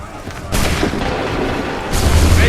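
Muskets fire in massed volleys in Assassin's Creed 3. Two heavy, booming bursts of gunfire, the second following about a second and a half after the first, sit over a rumbling battlefield background.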